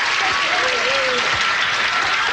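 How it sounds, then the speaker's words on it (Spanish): Loud, steady applause fills the room for a female contestant called up during a Halloween special of a charades-style game show, with a faint voice briefly rising above the clapping. "El aplauso fuerte para ella."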